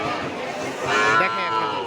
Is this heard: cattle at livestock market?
yes